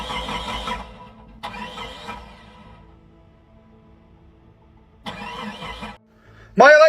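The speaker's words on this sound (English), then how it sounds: "You hear it trying to start?" A stranded Tesla Cybertruck at the roadside tries to start: three loud, rough cranking bursts with pauses between, then a sharp rising whine at the end, close by.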